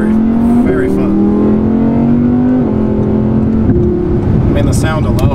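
A 610-horsepower supercar engine revs up loud and close, its pitch climbing and shifting across the clip, with a person speaking over it.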